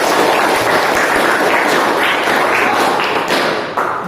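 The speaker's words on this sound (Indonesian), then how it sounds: "Tepuk tangan dong sekali lagi." Children clapping together in a classroom, a loud, dense, steady patter of many hands that continues without a break and thins slightly near the end.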